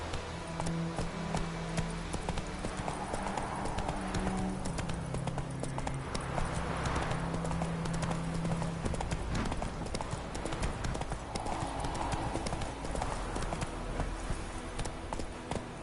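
Roach, the horse in the video game Witcher 3, gallops with rapid rhythmic clip-clop hoofbeats that carry on steadily and close over a low rumbling game background.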